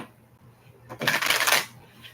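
A single quick riffle of tarot cards being shuffled, a brisk papery flutter lasting under a second in an otherwise quiet room.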